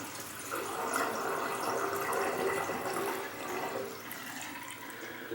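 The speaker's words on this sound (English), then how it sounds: "Oh man, this is not clogged. It's going down quick." Water rushes quickly down an unclogged sink drain, a loud, steady gushing and gurgling that holds for several seconds before easing slightly near the end.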